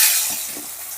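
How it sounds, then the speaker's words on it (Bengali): Large cut potatoes fry in hot oil with salt and turmeric, giving a bright, steady sizzle close up, with soft stirring touches beneath and no talking. "মিশিয়ে দিয়ে আমি আলুগুলো ভেজে নেব।"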